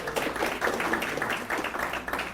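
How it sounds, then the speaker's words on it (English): Guests at a fiftieth-anniversary celebration give a steady round of applause, with many hands clapping densely and evenly at moderate loudness. "let's give them a round of applause"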